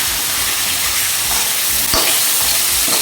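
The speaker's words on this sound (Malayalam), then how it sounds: "തക്കാളി കൂടി ചേർത്തിട്ട് നമുക്കിത് നന്നായിട്ടൊന്ന് വഴറ്റിയെടുക്കാം" Tomato sautéing and being stirred in a pan of pork curry, a steady loud sizzle with scraping stir strokes throughout and one sharper knock near the middle, no talk.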